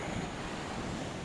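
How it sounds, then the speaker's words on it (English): Wind roars against the microphone at a winter seaside, a steady broadband rush with surf blended in, loud and unbroken throughout. "I don't know if any of this will get picked up because it's kind of windy"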